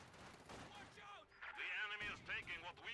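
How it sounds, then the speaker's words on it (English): A grenade bursts in a World War II strategy video game on the Ploiesti map, a short sharp blast among scattered gunfire effects, faint and brief, with a commentator talking over it. "Oh, nade goes off as well."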